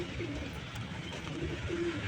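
Pigeons coo softly in a coop on a fourth-floor office rooftop, a few low calls repeating over a steady background hiss with no talking.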